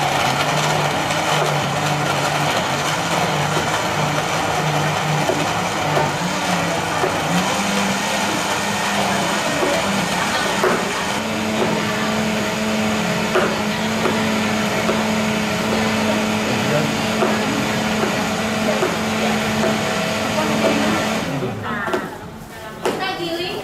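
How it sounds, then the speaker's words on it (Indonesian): An electric blender grinds jamu ingredients including cinnamon, its motor whining loud and continuous for about twenty seconds before cutting off, with voices talking over it. "Nah sekarang lagi mau ngeblender nih, kita mau nyoba pencet."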